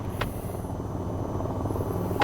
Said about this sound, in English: the engines will throttle down a bit to maintain the proper rotor RPM